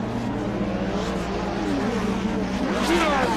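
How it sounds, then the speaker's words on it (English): Lotus 79 vintage Formula 1 cars in a sim racing game rev their engines on the starting grid at Silverstone, a dense, continuous, loud mechanical drone with rising and falling pitch. "All the drivers are revving the engine,"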